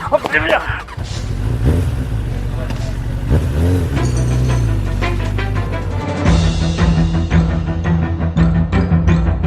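A motorcycle engine revs and roars in a steady, loud drone with surging pitch, mixed with other vehicle noise and voices talking over it.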